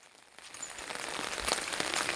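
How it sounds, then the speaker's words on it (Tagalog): Heavy rain pours down steadily, a dense hiss with scattered louder drops that grows stronger over the short stretch, with no talking. "Lakas ng ulan."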